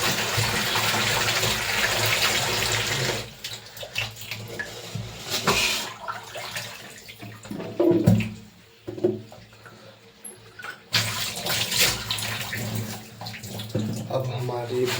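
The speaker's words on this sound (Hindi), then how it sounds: "नलका में ऑन कर दिया, ऐसे 2-3 बार काट के धो देता हूँ।" A kitchen tap runs while mushrooms are washed beneath it, a loud gushing stream that breaks off and resumes several times as the water is switched and the mushrooms are rinsed, with some quieter handling sounds in the gaps.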